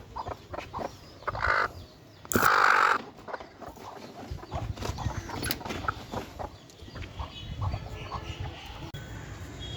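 Hens cluck and chatter intermittently nearby, with a few sharper squawks among scattered rustling and background noise.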